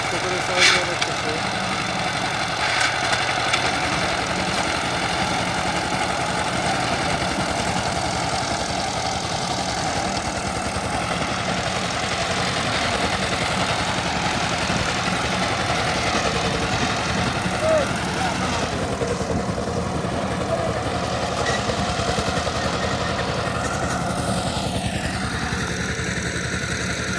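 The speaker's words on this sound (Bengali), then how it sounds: "পেয়ারার বাগান, শরীফার বাগান, এগুলো দিয়ে চাষ দিয়ে দিচ্ছে টিলার দিয়ে" A power tiller engine chugs steadily while ploughing soil in guava and custard apple orchards, a loud continuous rumble and rattle holding close throughout with only slight changes in load.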